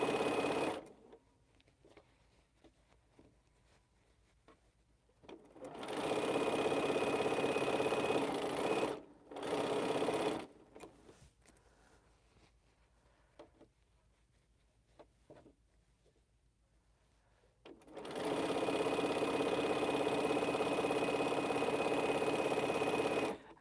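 A sewing machine stitches an Interwoven quilt in several sustained runs of steady mechanical whirring, separated by near-silent pauses, close and fairly loud, with no talking.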